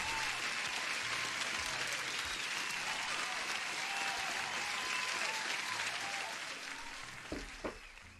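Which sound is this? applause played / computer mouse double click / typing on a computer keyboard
applause played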